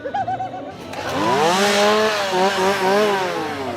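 A chainsaw engine at a Halloween horror scare zone revs up and holds a loud, wavering whine, with its pitch rising and dipping as the throttle is worked.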